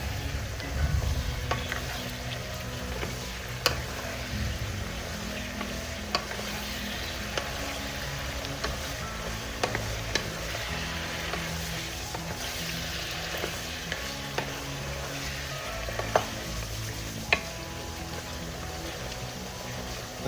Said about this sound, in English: Now let's give that a stir.